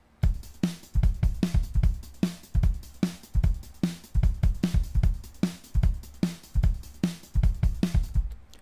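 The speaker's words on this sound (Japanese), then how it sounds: "まずはドラムの音を鳴らします。" An unprocessed drum track played from a plugin, with a steady rhythmic groove of punchy kick and snare hits under bright hi-hat, loud and close throughout.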